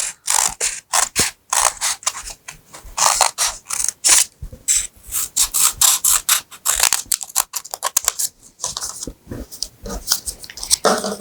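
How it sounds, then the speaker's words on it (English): Scissors snip through folded paper to cut out a pair of bear ears for a craft, giving bursts of crisp, close cutting sounds with short pauses between them and no voice heard. "I'm going to fold over my paper and I'm going to cut 2 ears the same size"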